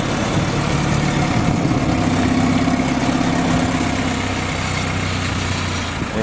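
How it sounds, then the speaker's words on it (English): Steady, close idle of a 1946 Willys CJ2A Jeep engine on a 6-volt system just after starting, an even low rumble with slight vibration and no talk. "Just fired it up. Very easy starting on the 6-volt."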